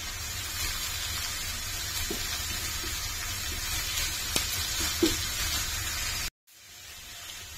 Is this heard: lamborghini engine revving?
no